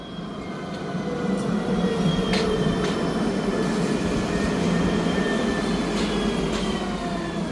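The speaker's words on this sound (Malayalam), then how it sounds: "ട്രാം വരുന്നുണ്ടെന്നാണ് തോന്നുന്നത്." A tram pulling into a stop on the Lusail tram line, heard as a steady low rumble with faint wheel and rail tones holding for several seconds, no voices over it.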